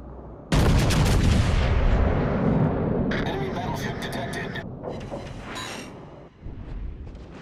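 Warship guns firing in World of Warships Legends: a sudden heavy naval gun blast that rolls on in a long rumbling roar, with further bursts of clattering fire and a radio-style voice speaking over the din.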